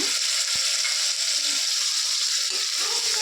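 Tomato pieces tipped into fenugreek leaves frying in oil and stirred, giving a steady close sizzle with a few soft scraping stirs and small thumps, with no talk.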